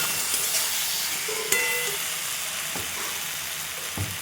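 Fried potato and pointed gourd tossed into a spice paste in hot oil, sautéing with a steady close sizzle and a few sharp clinks of a spatula against the pan, no talk.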